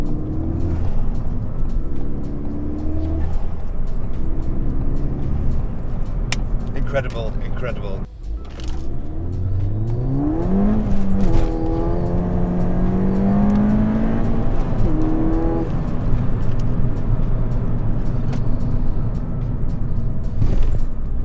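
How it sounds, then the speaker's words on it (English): A Ford Fiesta ST with a Stage 1 ITG intake accelerates hard, its engine note and induction roar climbing in repeated rising sweeps through the gears, with someone talking over the drive. "I also love how much induction noise we get from this ITG."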